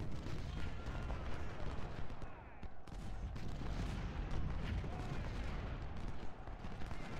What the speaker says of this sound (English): Plenty of federal artillery here between us and them.